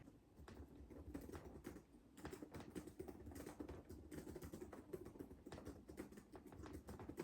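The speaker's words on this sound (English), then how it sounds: "I've got my laptop out right now, so I'm gonna sit here and write for a bit." Fingers typing on a laptop keyboard during a stay at a Kentucky retreat, producing quiet, continuous, uneven key clicks with no voices.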